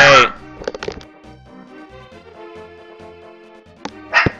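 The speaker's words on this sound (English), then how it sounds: "My dogs tend to bark at the littlest thing." Pet dogs bark loudly nearby, a sharp burst at the start and another near the end, around quieter video-game music playing in between.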